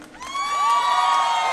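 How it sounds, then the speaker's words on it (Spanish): A live 2022 concert crowd at a show breaks into loud cheering and whooping that swells quickly and holds, close and full, with scattered shouts over a dense crowd roar. "Y ahora un aplauso más fuerte y cariñoso para mí"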